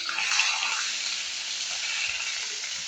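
Pangas fish frying in a pan of hot, spattering oil, giving a steady, close, bright sizzle with crackling pops throughout and no voices.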